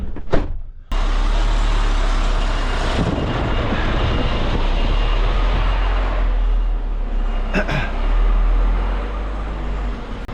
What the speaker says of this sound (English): so I just gotta move the truck forward